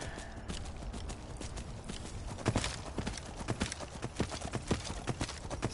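Rhythmic hoofbeats of a horse galloping in Skyrim, steady and fairly close, a continuous clattering run over a soft background rumble.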